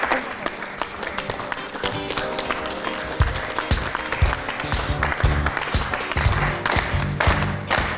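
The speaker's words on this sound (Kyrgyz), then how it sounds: "Кол чабуулар менен" A studio audience at a Kyrgyz television show claps steadily throughout, dense applause with scattered louder claps and no speech over it.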